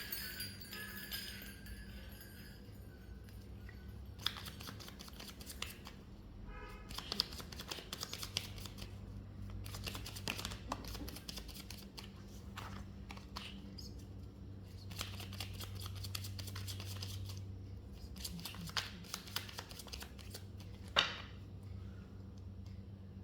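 Angel tarot cards are shuffled with repeated soft riffling and flicking bursts spread across the stretch, close and fairly quiet, with no talking.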